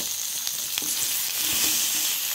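Chopped tomato frying in a pan with tamarind and sautéed shallots for a South Indian chutney, giving a steady, dense sizzle with occasional light clicks from stirring, close and fairly loud throughout.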